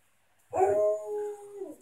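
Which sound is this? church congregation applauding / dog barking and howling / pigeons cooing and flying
dog barking and howling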